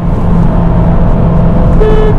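A car horn sounds loud and steady for about two seconds, mixed with the rumble of a running vehicle during an acceleration test between an Audi Q2 35 TFSI and a Cupra Formentor 1.5 TSI 150 HP DSG.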